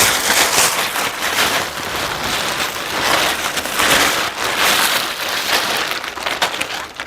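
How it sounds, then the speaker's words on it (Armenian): Rain falls on a cellophane cover stretched over pickling jars outdoors, making a dense, steady crackling patter that swells and eases slightly without pause. "Որտև անձրև է գալիս։"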